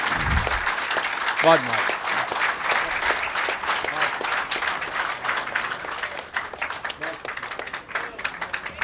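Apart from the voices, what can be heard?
audience applause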